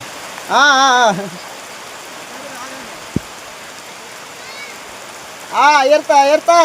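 Heavy rain falls in a forest village as a constant hiss under a voice that speaks in short bursts, with one sharp click in the middle.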